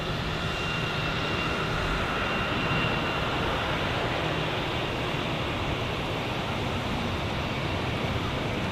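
A jet airliner climbs out after takeoff at Zurich airport, a steady, broad engine roar heard from an airport observation deck, sustained and moderately distant with no voices.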